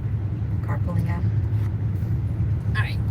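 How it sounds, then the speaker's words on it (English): A car pulls out with a steady low engine rumble that holds evenly throughout, with faint voices in the background. "car pulling out."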